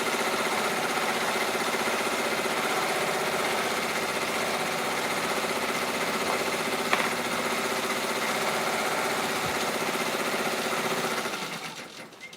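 An embroidery machine sews a satin stitch on bag tags, a fast, even mechanical whir and needle chatter running steadily throughout before tapering off at the end.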